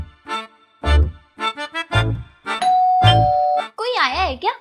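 A doorbell chimes twice between bursts of talk: first a long, steady tone, then a quick, warbling melodic ding-dong, both close and clear.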